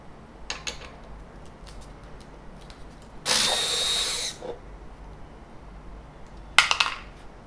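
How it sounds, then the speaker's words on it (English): An electric screwdriver backs screws out of a MOOZ 3-in-1 printer, with short whirring bursts early on, one sustained loud run in the middle and a final brief burst, close and with no talking. "I'm using the electric screwdriver today"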